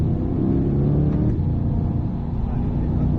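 A Corvette C8 on a race track, its engine accelerating with a steady, loud, continuous drone and rumble that holds throughout, close to the microphone, with a voice talking briefly over it.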